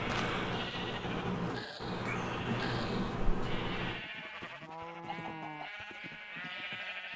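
Blocky sheep in the Minecraft Agrarian Skies modpack bleat in a short run of wavering calls, standing out after a dense stretch of game noise and music.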